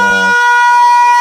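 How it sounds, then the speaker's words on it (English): A loud, piercing synthetic siren sound effect used as a radio show sting, a brief low rumble giving way to a sustained steady high tone, alone with no talk. "Everyone tuned in knows what that siren means."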